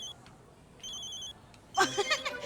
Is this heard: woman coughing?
no